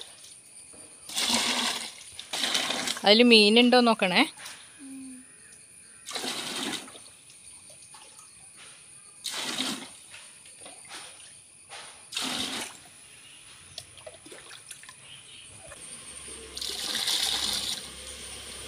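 Water scooped by hand from a backyard fish pond and poured out, heard as a series of separate splashy pours and trickles with quiet gaps between them, plus a brief spoken remark early on.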